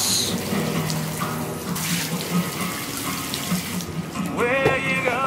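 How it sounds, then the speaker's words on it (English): Water splashes and pours steadily onto a waterproof Bluetooth speaker for several seconds, close up and loud, like a stream running from a tap. "So that was just poured water."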